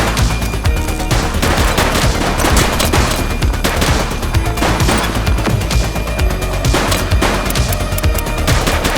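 Dense, continuous gunfire rattles through a police shootout in a video game, with rapid overlapping shots and bursts that stay loud and crowded for the whole stretch.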